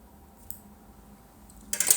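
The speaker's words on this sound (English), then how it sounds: "So now I'll take my sewing scissors and trim it." Sewing scissors trim a strand of yarn: a faint single snip, then a quick cluster of sharper cuts near the end, against a quiet room.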